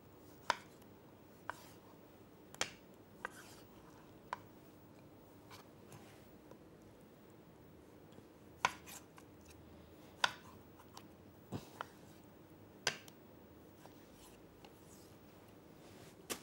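A knife cuts tomatoes lengthwise into quarters on a board, giving sparse, faint, sharp taps at irregular intervals over a quiet kitchen background.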